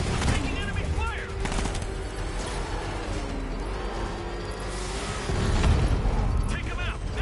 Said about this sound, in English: I'm taking enemy fire!